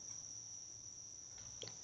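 Crickets chirp outdoors on a calm morning in a steady, faint, continuous high trill, with a few brief bird calls rising near the end.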